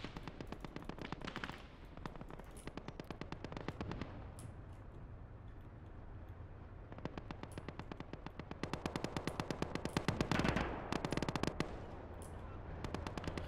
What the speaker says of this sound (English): the distant cracks, the distant gunshots, explosions. It's so realistic.